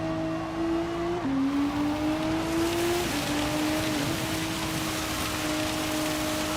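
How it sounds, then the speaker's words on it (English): Steady rain hiss in Gran Turismo 7 at Spa, continuous and fairly loud, layered over a droning race car engine whose pitch shifts with gear changes. "In terms of the weather, just in and out raining."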